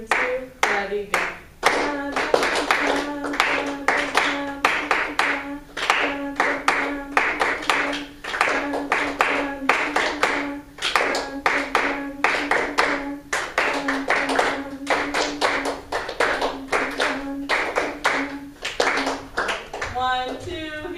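A group of people claps hands steadily and rhythmically for a long stretch, sharp close claps in an even pulse, with a voice talking along underneath.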